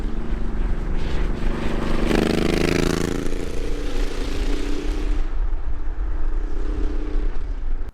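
A Honda VTX1800's giant V-twin engine roars loud and close throughout as the throttle is opened, with the engine note climbing sharply for a stretch before settling into a steady, heavy drone.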